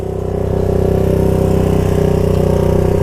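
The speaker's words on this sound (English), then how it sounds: "That's that rattle noise you hear. It's the kick lever." Honda ATC 200x three-wheeler idling close by, a loud, steady single-cylinder putter with a fast metallic rattle from the loose kick lever running through it, no talk.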